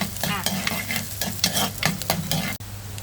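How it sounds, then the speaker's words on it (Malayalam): Green chilli, onion and garlic fry in oil with popped mustard seeds for a chemballi fish curry, with a bright close sizzle and rhythmic scraping strokes of a stirring spoon against the pan. "എണ്ണ കടുവും പൊട്ടിച്ചു സാധനങ്ങളെല്ലാം ചേർത്തോണ്ടിരിക്കുന്നു പച്ചമുളക് ഇട്ടു ഉള്ളി ഇട്ടു ഉള്ളി വെളുത്തുള്ളി"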